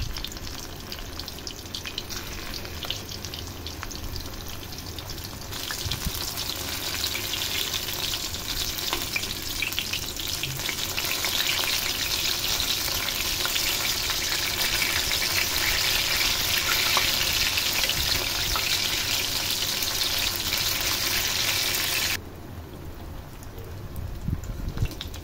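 A green banana snack fries in hot oil, a loud continuous crackling sizzle that swells after a few seconds, holds steady, then drops back to a quieter bubble near the end.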